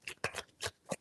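Tarot cards are shuffled in four quick, soft flurries of close card riffling, each lasting a fraction of a second.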